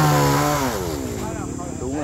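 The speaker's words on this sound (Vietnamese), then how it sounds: "Cái máy cưa này là máy cưa G370" A G370 chainsaw cuts into a large yellow-flowered acacia tree, its engine revving loud and close with a wavering, shifting pitch through the whole stretch.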